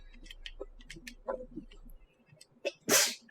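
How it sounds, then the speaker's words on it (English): A loud, sharp sneeze bursts out near the end, close and alone, after scattered quieter chatter and small sounds during a gaming session. "Sneezing on my knee, bro."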